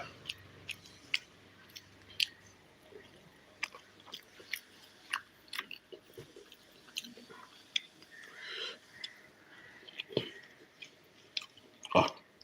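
Someone eats idiyappam with egg curry, the chewing close and fairly quiet, a run of soft, irregular bites and mouth sounds with no talking over it.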